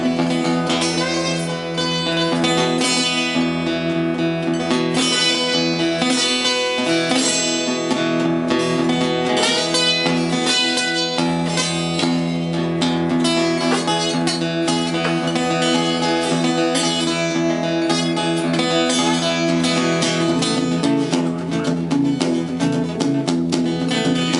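Harmonica playing imitates a mournful train whistle, long sustained chords bending and wavering continuously, loud and close throughout.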